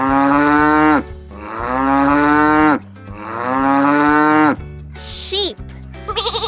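Three long, loud cow moos follow one another, each a sustained low lowing call, before a brief whistle-like sound and a short voiced word near the end.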